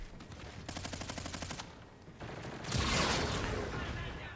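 Rapid automatic gunfire from an MV4 rifle in a Call of Duty shooter game, a steady rattling burst in the first half followed by a louder, denser roar of game combat noise, with a voice talking faintly underneath.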